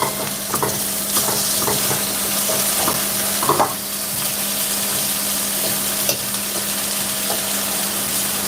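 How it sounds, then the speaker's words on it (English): Apple pieces toast in dark caramel in a pan, giving a steady close sizzle with a few soft scraping clicks from stirring. "I'm not cooking the apple. I'm just toasting the apple"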